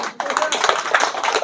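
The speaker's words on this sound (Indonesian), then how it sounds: "Tepuk tangan kalau setuju." An audience at a public talk in Indonesia breaks into brisk, dense clapping that starts suddenly and carries on steadily, with a few voices mixed in.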